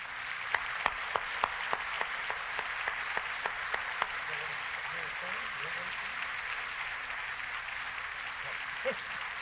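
Applause from an audience at a civic tribute event honoring a philanthropist and her family, sustained and moderately loud across the whole stretch, with sharp individual claps standing out early and faint voices murmuring underneath.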